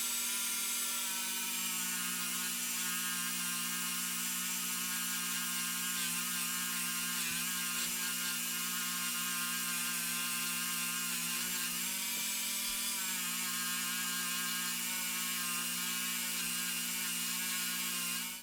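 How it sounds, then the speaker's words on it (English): A wire wheel polishes a zinc-plated part, giving a loud, continuous high-pitched motor whine that holds steady throughout, with slight grinding variation and no talking. "Just going to hit this with my wire wheelie quick to see how quick it's going to polish up now."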